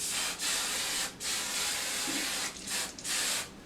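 Four short bursts of hairspray hiss close by, each lasting about a second, separated by brief pauses.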